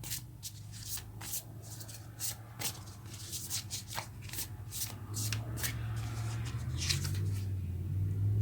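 Oracle cards are shuffled by hand in a quick series of crisp riffles and slides, close and moderately quiet, over a low steady background hum.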